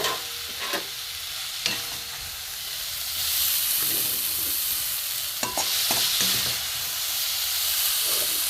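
Vegetables frying in a covered pan over a gas flame, a steady sizzling hiss that rises and thickens midway, with a few sharp clinks and scrapes of utensils throughout; no voices.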